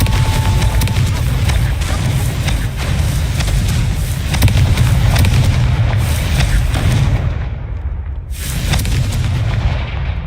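Constant booming blasts from the Confringo explosion spell in Hogwarts Legacy, loud and dense with repeated cracks over a deep rumble that never lets up, briefly thinning near the end before surging again.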